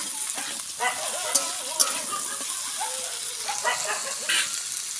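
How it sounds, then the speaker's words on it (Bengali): Potatoes frying with onions in a pan, a steady sizzle with occasional stirring clicks and scrapes throughout, close and moderately loud, no talk. "এবারে আমি আলুটা দিয়ে দেবো, দিয়ে আমি ভালো করে ভাজবো।"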